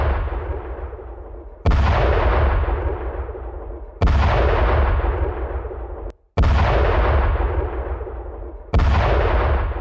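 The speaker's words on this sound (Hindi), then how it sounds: "रात के वक्त धमाके का यह वीडियो सामने आया।" Four heavy booming blasts at night in Gaza during the Israel–Gaza war, a couple of seconds apart, each hitting hard and fading slowly into a low rumble, with no voices.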